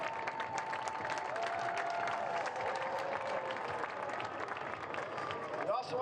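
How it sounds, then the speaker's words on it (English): A stadium crowd at a North Carolina FC versus Saint Louis FC soccer match applauds the fans. The clapping is continuous and moderately distant, mixed with crowd murmur and a faint held tone. "The loudest applause we can for our incredible fans."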